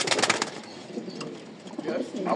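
Racing pigeons coo softly in a loft with a faint flutter, the calls low and somewhat masked by hiss, and a voice speaking briefly over them.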